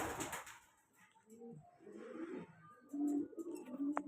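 Pouter pigeons give soft low burbling coos, close by and fairly quiet, with a few rounded cooing phrases in the second half over light background noise.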